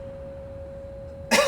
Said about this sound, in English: you must excuse my cough as well